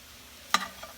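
A single brief scrape of stirring in a pan of frying hamburger meat and garlic, with a soft sizzle trailing after it.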